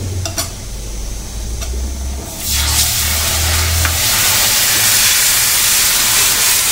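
Water poured into hot wheat-flour halwa (aate ka halwa, kada prasad) in a pan, bursting into a loud, sustained sizzle and steamy hiss after quiet stirring, continuing strongly to the end.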